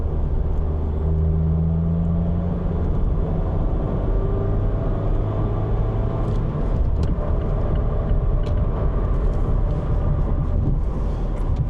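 Steady road noise inside a 2025 Mazda MX-5 Miata upper trim with upgraded sound insulation, heard while driving: a continuous low rumble with faint engine hum, even in level and alone with no talking.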